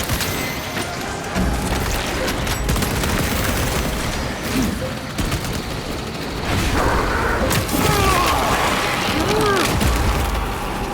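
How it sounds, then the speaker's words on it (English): A frag grenade goes off in Warhammer 40K Space Marine II amid a continuous roar of gunfire and battle noise, with heavy bursts swelling midway through. "Frag grenade deployed."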